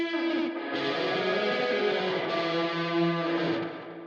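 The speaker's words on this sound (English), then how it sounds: "I use Tape Echo from UAD as a delay and reverb for this guitar." Electric guitar run through UAD Tape Echo delay and reverb, playing sustained effected tones with a chorused, slightly distorted sheen and echo tails, steady and loud with no voices.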